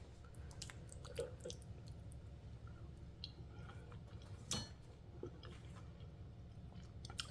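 Chewing while tasting homemade old-school potato salad made with cut potatoes and a little sugar, soft wet mouth sounds close to the mic, faint and steady with a few small clicks and no talking.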